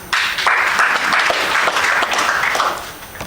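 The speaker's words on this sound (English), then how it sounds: "A round of applause for us." An audience applauds at a leaders' meeting on education, with loud dense clapping that holds steady for about three seconds and then fades out.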